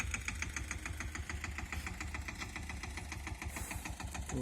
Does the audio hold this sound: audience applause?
no